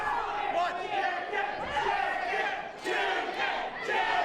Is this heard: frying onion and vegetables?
no